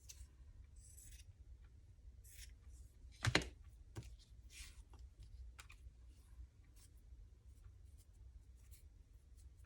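Scissors snip once through a piece of craft material in a quiet room, a single crisp close cut midway, surrounded by faint scattered rustling and handling sounds.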